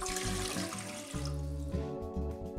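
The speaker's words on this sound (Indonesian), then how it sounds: "Oke, tuangkan secukupnya air." Water pours steadily into a cooking pot, a continuous splashing gush readying the pot for boiling dried butterfly pea flowers, loud and close with no speech.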